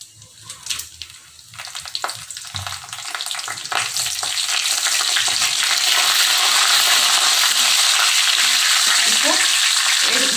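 Whole cinnamon, cloves and bay leaf fry in hot oil for a plain kurma, a soft crackle under a few stirring clatters that swells into a loud, steady sizzle.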